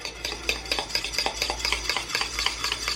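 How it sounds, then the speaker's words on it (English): Egg yolks being stirred as warm pudding mixture is added, with a steady series of soft scraping, clicking utensil strokes against a bowl, close and fairly quiet, no talking. "Stir it."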